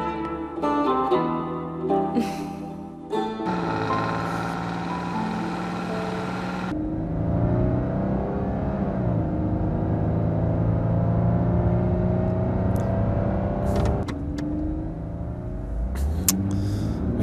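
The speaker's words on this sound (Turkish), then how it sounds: "Vites geçirirken can veriyor araba." A car engine strains and whirs as gears shift, a sustained mid-loud drone with rising and falling pitch, a few sharp clicks and knocks scattered through.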